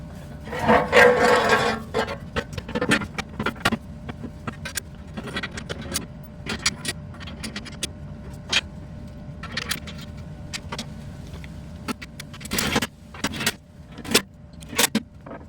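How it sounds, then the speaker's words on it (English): A belly pan goes back onto a 2021 Ford Bronco with a 2.7L V6: scattered metallic clinks, rattles and scraping of the panel and fasteners, close by, with irregular taps and a louder jangle near the start. "we're going to go ahead and put our belly pan back in place"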